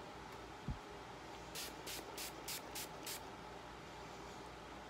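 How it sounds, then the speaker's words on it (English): Mario Badescu Rose Facial Spray misted onto a face: a rapid series of about six short, close, bright hissing spritzes in steady rhythm, preceded by a single soft tap, over a quiet room background. "the next thing that I'm gonna do is spray my face"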